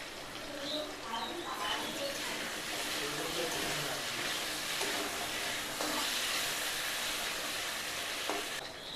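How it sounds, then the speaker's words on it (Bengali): Potatoes frying in a pan for a Bengali fish curry are stirred, giving a steady soft sizzle with faint scraping throughout, while a voice talks quietly over it. "আলুগুলোকে একটু নাড়িয়ে নিচ্ছি।"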